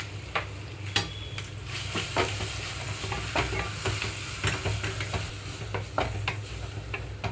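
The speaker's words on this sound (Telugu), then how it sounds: "పుదీనా పేస్ట్ వేసిన తర్వాత 2 నిమిషాల పాటు ఇలా వేయించుకున్న తర్వాత రైస్ ఇందులో కలపాలి" Mint paste fries and sizzles in a pan for pudina rice, with steady crackling broken by repeated clinks and scrapes of a spoon stirring it, close and continuous with no talking.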